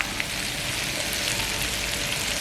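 Onions frying in a pan with salt for a Tamil-style chicken curry, a steady broadband sizzle that stays even and close throughout, with no talking.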